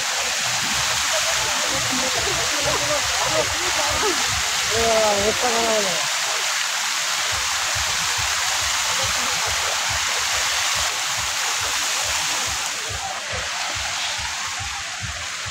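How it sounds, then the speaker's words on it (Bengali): A fountain in Green Valley Park in Natore pours water in a steady broadband rush, with a person speaking faintly over the flow in the first few seconds. "ঝর্ণা রয়েছে এখানে।"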